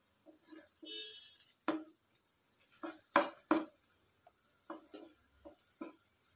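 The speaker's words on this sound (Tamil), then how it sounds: "பூண்டு வந்து நல்லா வறுபடணுங்க." Crushed garlic dry roasting in a pan for idli podi, heard as scattered short scrapes and taps of a spatula stirring against the pan, close and sparse over a quiet background.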